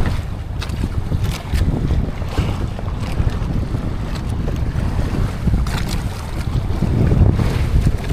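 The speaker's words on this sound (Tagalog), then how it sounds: "malakas ang hangin" Strong wind buffets a small fishing boat at sea, a loud, gusty roar of wind noise with water sloshing and waves against the hull, constant and close throughout.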